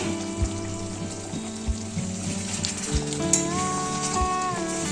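Katla fish cooks in a covered pan, a soft, muffled sizzle under a steady tonal hum, with a few low thumps and a brief clatter near the end; quiet and close, no voices.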